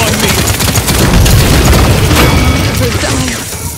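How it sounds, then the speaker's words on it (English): Dense, booming gunfire from enemies in the Paladins video game, a loud continuous barrage of shots and blasts that stays heavy for the whole stretch and eases off only slightly near the end. "They're firing on me."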